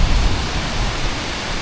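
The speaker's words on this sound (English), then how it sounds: "the waterfall we saw this morning, I think this is the end of it, or where it went" Loud, constant rushing of falling water, a dense roar close by with no pauses.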